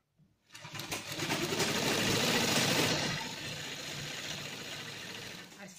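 Sewing machine stitching the side seams of palazzo trouser panels, a steady close mechanical whir that starts abruptly, peaks, then settles to a slightly lower running hum.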